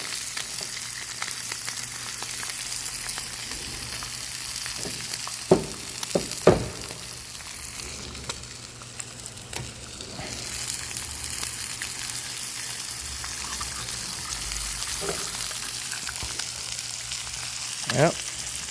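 Steak fries on a cooker inside a truck with a steady, close sizzle that runs throughout, broken by a few sharp clinks and scrapes and a faint murmur of background noise.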